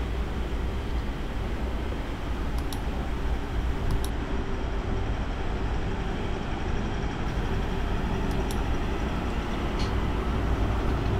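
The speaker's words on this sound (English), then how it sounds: "The trains used on this route are the D-Class 230s, and these are ex-London Underground stock converted to diesel multiple units by Viva Rail." A Class 230 diesel multiple unit, ex-London Underground stock converted for diesel running, heard as a steady, loud, broadband rumble of running train noise throughout, with faint high squeals appearing briefly.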